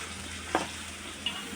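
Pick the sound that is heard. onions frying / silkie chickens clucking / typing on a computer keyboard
onions frying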